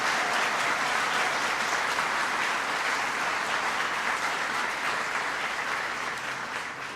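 Sustained applause from a large audience greets members of Congress Maurice Hinchey, Paul Tonko and Scott Murphy at Hudson Valley Community College, a dense, steady clatter of many hands that holds loud throughout and tapers slightly at the end.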